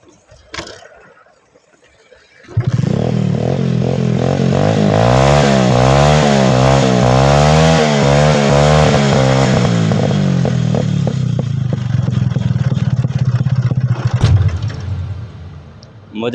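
A freshly washed motorcycle engine at a village service day fires up and revs loudly and steadily for about twelve seconds with a rough, uneven idle, then falters and dies, a voice heard briefly under the running engine.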